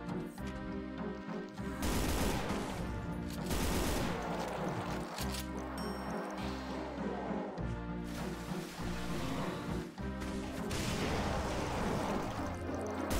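Rapid, loud gunfire bursts in Brutal Doom 2, with heavy repeated shots and crashes layered over driving game music, continuous through the stretch.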